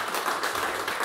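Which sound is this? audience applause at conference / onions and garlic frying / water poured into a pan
audience applause at conference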